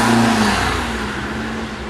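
A car engine runs steadily close by, its low hum holding through the whole stretch as the car moves off, a brief rising tone at the start, with no voices.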